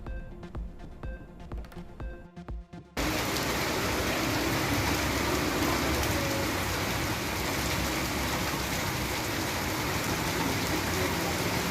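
Widespread morning rain in Tamil Nadu pours down steadily, a dense continuous hiss that cuts in abruptly after a few seconds of unrelated musical sound and then holds loud and even to the end.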